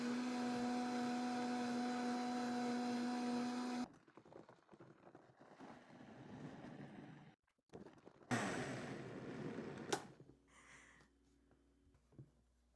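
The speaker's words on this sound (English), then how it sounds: "Now, time to blend." A blender whirs loudly while blending a lemon drink with water, running steadily for a few seconds before stopping, followed by quieter clatter and handling noises.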